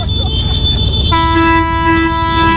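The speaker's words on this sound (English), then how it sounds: "purchase train horn for the motorcycle" A loud, blaring train horn mounted on a motorcycle, with a rich chord-like tone, sounds over road noise, holding steady for more than a second, close and piercing.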